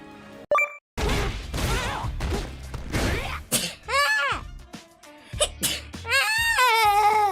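Several sharp human sneezes arrive in quick succession, some with strained voiced bursts and squeaky tails, close and loud with short pauses between them.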